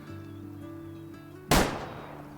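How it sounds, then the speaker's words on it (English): A single rifle gunshot in the Way of the Hunter hunting video game, a sharp loud crack that rings out with a fading echo over a quiet ambient hum. "let's just drop a shot into him real quickly"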